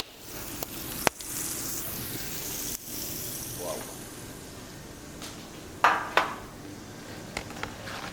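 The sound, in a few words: pork fat side sizzling on wood-fired oven floor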